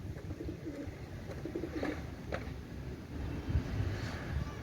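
Kalanka pigeons coo softly in a low, murmuring rumble among a pair of young birds, faint and continuous against quiet background noise.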